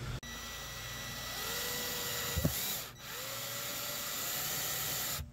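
A power drill whirs steadily as it drives a screw into wood without a pilot hole, rising in pitch through two long runs with a short pause between them, heard close and fairly loud with no talking.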